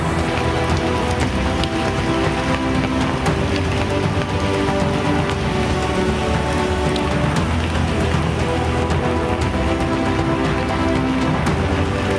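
Heavy rain pours down in Ramanagara, a dense, loud, unbroken roar of water hitting surfaces with scattered drop impacts throughout and no voices.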